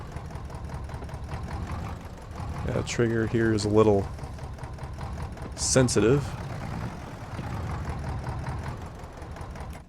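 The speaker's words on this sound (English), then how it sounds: "It's so cold out here, this tractor wouldn't want to start." A tractor engine runs in cold weather in the video game Farming Simulator 22, a steady low droning idle with a few rising whining revs. Someone talks over it.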